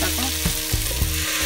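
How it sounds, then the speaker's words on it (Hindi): Hot water poured into a pan of Malvani-style country chicken, raising a loud, steady sizzle and frying hiss with a few short bursts of stirring and splashing, close by with no talk. "तो अभी इसके ऊपर जो पानी रखा था गरम होने के लिए वही पानी डाल दिया है इसके अंदर।"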